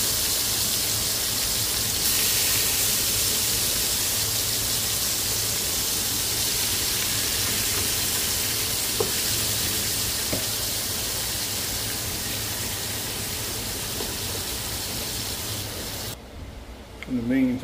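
Oxtails browning Caribbean-style in a hot pan give off a loud, steady sizzling hiss that runs unbroken and then cuts off abruptly near the end.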